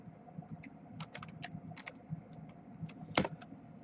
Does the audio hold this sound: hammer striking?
no